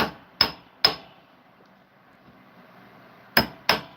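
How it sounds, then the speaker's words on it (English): Sharp metallic hammer strikes on a silver ring, bright ringing tone, two close together, a pause of silence, then two more, each ringing briefly. "Might as well hammer down that size just a wee bit."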